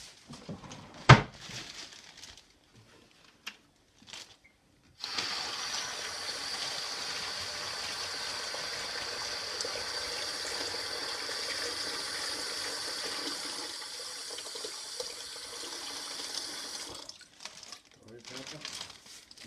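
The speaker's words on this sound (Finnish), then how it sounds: "siihen pitää laittaa vettä" Water is poured into a bag that will later be pierced with sharp pencils, a steady rushing stream running about twelve seconds, moderately loud, with a few small clatters before it and after it stops.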